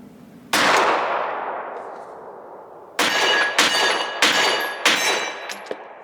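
Glock pistol shots ringing a steel target at an outdoor range: one loud crack with a long metallic ring decaying away, then a pause and four quick shots, each followed by a bright clang from the steel.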